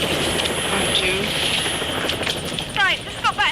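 A helicopter's steady engine and rotor drone fills the background on the Isle of Mull, with a few faint rising chirps near the end.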